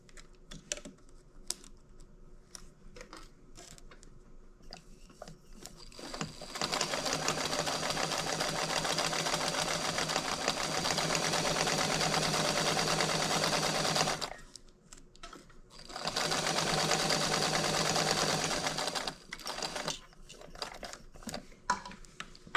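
Sewing machine stitching a large wallet runs in two sustained bursts, a long steady run then a shorter one after a brief pause, with quieter clicks and handling before and between.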